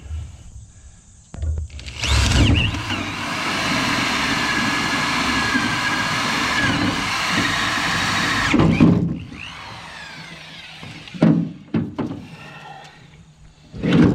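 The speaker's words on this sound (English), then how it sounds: "Got the handle on the drill." A power drill whirs steadily for several seconds, strained as it bores, then stops, followed by a few clunks and rustles of handling.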